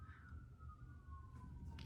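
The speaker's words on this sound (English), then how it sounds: "Sorry, siren's going past." An emergency siren passes in the distance, a faint wailing tone gliding slowly downward under a quiet background.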